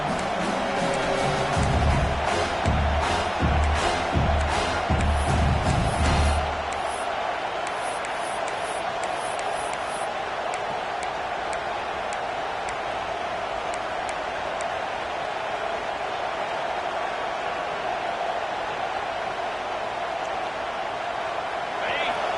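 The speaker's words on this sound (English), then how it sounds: "Listen to the crowd energy here in the early going. This is a tough environment for visitors." Stadium crowd noise from a Madden football video game on PS5 forms a broad, continuous roar throughout, with a commentator's voice over it during the first several seconds before the crowd carries on alone.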